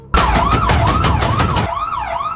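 Wailing police car sirens sound in an animated city car chase with a black van, loud and continuous with a rising and falling tone, then a second siren pattern takes over near the end.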